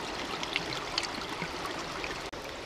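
Water runs and trickles steadily while a broken clay pipe bowl found mudlarking is rinsed in a river, close and moderately loud with small splashes and no talk.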